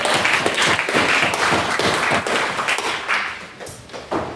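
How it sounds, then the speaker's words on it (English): Brief round of applause from an audience at a university debating society meeting, steady dense clapping for a few seconds that thins out toward the end. "A short round of applause for Ciara."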